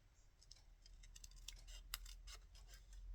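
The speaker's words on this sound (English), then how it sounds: "So I've got a pair of fussy cutting scissors here, the ergonomic scissors, meaning that they don't hurt your hands when you're cutting." Ergonomic fussy cutting scissors snip through paper while a crafter makes a bookmark: a quiet, close run of small crisp clicks and snips, alone without talk.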